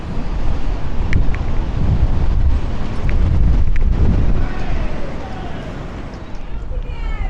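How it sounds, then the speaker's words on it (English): Strong gusting wind roars through Blackpool town centre on a wet, stormy night, a loud, continuous rush with heavy buffeting against the microphone. "But listen to that sound as the wind blows through there."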